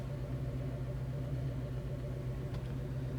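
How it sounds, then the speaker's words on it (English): A 1970 Chevrolet Chevelle SS engine idles steadily, a low even rumble with a slight throb, close by and uninterrupted for a few seconds. "Nice idle, we're not stalling out, I don't have my foot on the gas."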